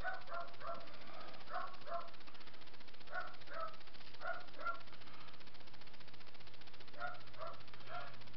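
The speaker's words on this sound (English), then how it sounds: "If you can hear there's some barking in the background." Dogs bark in the distance next door, short paired yaps coming in several separate bursts, faint and far off against a quiet indoor room.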